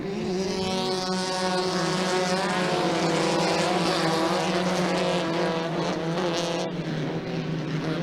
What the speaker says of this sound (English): the green is out for the Great American Short Course season finale weekend of the limited buggy division. As 9 cars take the green flag into turn 1